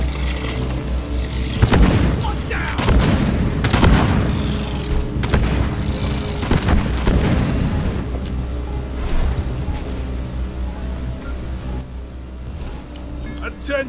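Bombs going off in a machine-events mission of a war video game: several heavy booms at irregular intervals over continuous low rumble, loud and close, with voices talking over the blasts.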